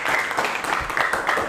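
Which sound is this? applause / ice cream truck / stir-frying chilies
applause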